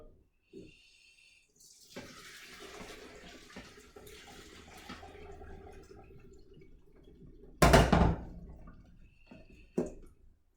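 Cooked pasta and its water poured into a colander in a home kitchen, a steady splashing rush running several seconds with a louder gush near the end and a few drips after.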